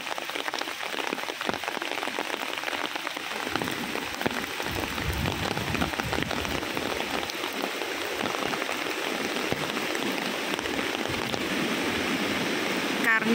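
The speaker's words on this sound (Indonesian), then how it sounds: "Hujan nih teman-teman." Rain falls steadily at a riverside glamping site in Citamiang, Bogor, making a dense, continuous hiss and patter on surfaces throughout, with faint voices talking beneath.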